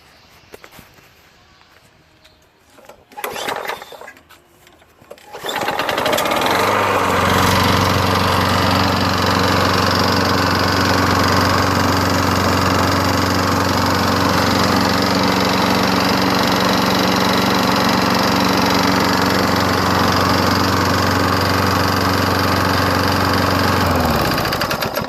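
A Toro Recycler mower with a 6.5HP Tecumseh engine is pulled over with a couple of rattling tugs, then fires and settles into a loud, steady, close running drone that holds for the rest of the clip.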